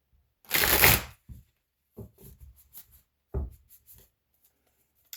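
Oversized Sufi tarot cards are shuffled by hand: a brief rustling burst, then several soft, separate taps and slides of the large cards, close and quiet.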